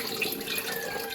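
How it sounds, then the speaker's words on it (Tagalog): Cool water runs steadily from a tap as eggplant is rinsed under it, a close, continuous hiss and splash with no voices. "Hugasan nyo lang po yung talong."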